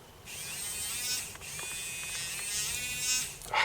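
A small USB-C powered grinding and engraving tool motor spins steadily with a high-pitched whine, close and loud, holding for several seconds with slight pitch shifts as the speed changes.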